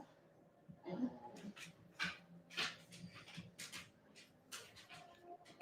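A dog whimpers and cries softly in short, high, irregular bursts, fairly faint against a quiet indoor background.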